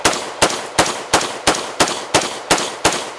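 Gunshots ring out at a shooting drill, two rounds per target, nine sharp evenly spaced reports fired at a steady quick rhythm, loud and close with short decays between.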